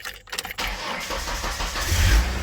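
An old Ford car's engine cranks briefly, then catches and settles into a steady, fairly loud idle close by, with no talking.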